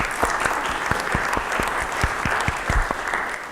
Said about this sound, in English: So get a round of applause